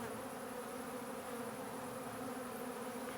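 Steady, dense buzzing of many bees cleaning out wet honey supers, continuous and close, with no voices.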